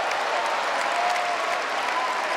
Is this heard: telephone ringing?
no